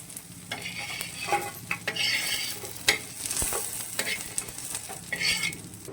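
Onion and masala for a country chicken curry sizzle in a pan under repeated scraping stirs, a steady close frying hiss broken by bursts of spoon-on-pan scraping throughout.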